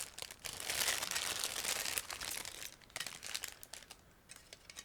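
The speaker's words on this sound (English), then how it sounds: "now I'm opening the plastic bag with car body" A plastic bag crinkles and crumples continuously as it is opened around the body of a Beemax 1/24 BMW 320i BTCC 1996 model car kit, with dense rustling bursts and brief pauses, close and fairly loud.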